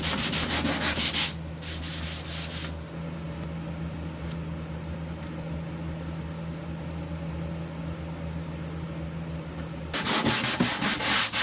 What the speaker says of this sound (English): I'll follow that up with a piece of sandpaper taped to a piece of wood that's nice and straight, and then we'll sand it back down flat